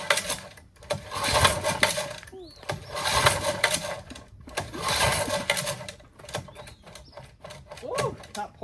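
Repeated pulls on a recoil starter rope turn over an engine with its spark plugs removed, giving about four rhythmic rasping surges of clattering mechanism, close by, with brief squeaks between pulls and people talking.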